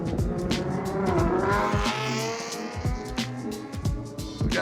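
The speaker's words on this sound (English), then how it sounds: "I think it's a V6 Charger" A Dodge Charger with a V6 drives past, engine revving with a brief tire squeal as it goes by fairly close and loud.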